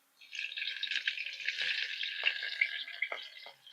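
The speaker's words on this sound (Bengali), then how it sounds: "কড়াটা বসিয়ে সাদা তেল কিছুটা পরিমাণ দিয়ে দিচ্ছি গরম হয়ে গেছে দিয়ে দিচ্ছি কাঁচা লঙ্কা কুচি" Chopped green chillies drop into hot white oil in a wok and burst into a dense, bright frying hiss. It starts abruptly, holds steady and close for a few seconds with faint clinks, then eases off, with no speech.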